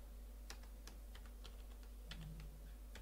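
Soft, quick typing on a computer keyboard during a text-editing task, a dozen or so close, light key clicks in an uneven rhythm over a low steady hum.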